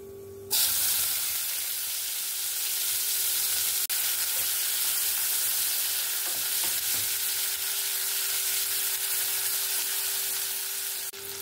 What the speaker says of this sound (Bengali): এবার আমি পেঁয়াজ কুচি, টমেটো কুচি আর কাঁচা লঙ্কাটা দিয়ে দেব।